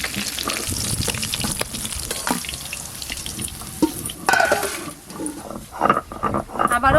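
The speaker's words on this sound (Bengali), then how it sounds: "আবারও ভালো করে বাটা মাছগুলো ভেজে নেব।" Bata fish fry in hot oil with a loud, close crackling sizzle and sputtering pops that flare up in bursts toward the end.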